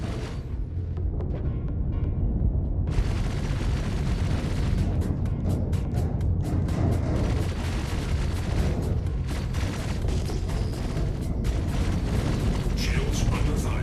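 Spaceship cannon fire in the video game Star Citizen, a dense run of booming shots and blasts over a loud low rumble, speeding into rapid bursts, with a voice talking over it.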